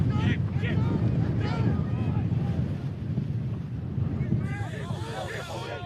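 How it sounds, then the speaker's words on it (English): Strong gusts buffet the microphone at an outdoor Ulverston v Salford City Roosters match, giving a constant low roar, while voices call out faintly beneath it. "It's windy, guys."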